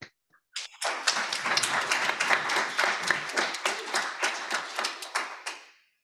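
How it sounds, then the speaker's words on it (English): Applause at a town hall meeting: a small group claps in a quick, irregular patter that builds in within a second, holds for about five seconds, then fades out. "let's give another round of applause"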